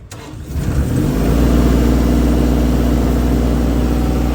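A Kubota KX033 mini excavator with a system error engine cranks briefly and then catches, settling into a loud, steady diesel idle close by.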